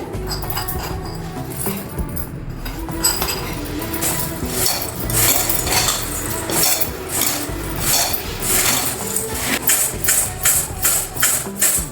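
Dry poha mixture tossed and stirred in a bowl, a steady run of close, bright rattling and clinking that gathers into rhythmic shaking bursts toward the end.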